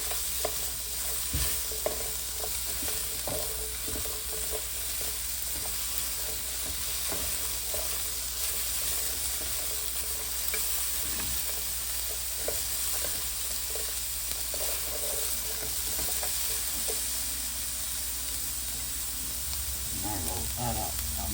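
Onions sauté in a hot pan, giving a steady close-up sizzle with constant stirring scrapes throughout, and a few louder utensil knocks toward the end.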